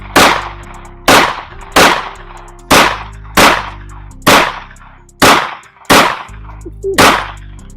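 A Taurus G2C pistol fires about nine loud, close, sharp shots at a steady, unhurried pace, each crack ringing out briefly before the next.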